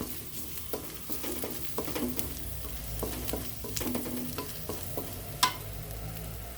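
Turmeric, garam masala and a little chilli powder fry in a pan for a shavige pulav, giving a soft steady sizzle with a few spoon scrapes and one sharp clink of metal near the end.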